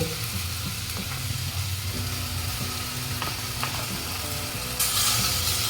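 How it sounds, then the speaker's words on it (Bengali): Three spoonfuls of mustard and poppy seed paste fry in a kadai with a loud, dense, continuous sizzle and occasional scraping clicks of a spoon, the hiss surging louder near the end. "এখন আমি সর্ষে আর পোস্ত পেস্টটা দিয়ে দেবো"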